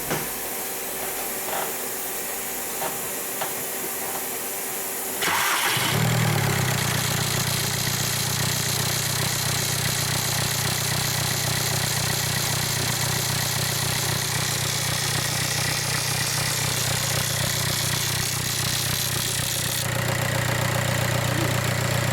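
A Volkswagen engine idles at a steady hum once it starts running, with a hissing, steam-like layer above it. The sound stays loud and even from about five seconds onward, after a quieter, rustly opening.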